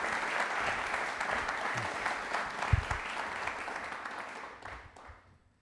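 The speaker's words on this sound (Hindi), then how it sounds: "एक बार तालियां सर के लिए जोरदार होनी चाहिए प्लीज" A studio audience on a television quiz programme gives a speaker hearty applause, dense clapping that holds steady and then thins and fades out near the end.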